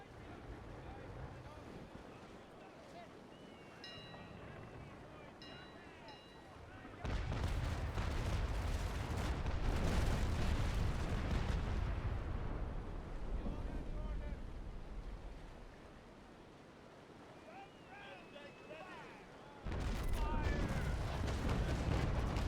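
Cannon broadside from a sailing warship in the naval combat game Naval Action: heavy, rolling booms swell into a long, loud roar from about seven seconds, fade, then erupt again near the end, over steady wind and water noise.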